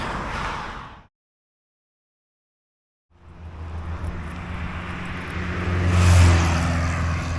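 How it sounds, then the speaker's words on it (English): Cars on a freeway near a roadside heading toward Istanbul pass by with engine and tire roar. A brief pass fades into a full cut of silence, then traffic noise swells into a louder, nearby vehicle sweeping past. "all these cars are going in the direction of Istanbul"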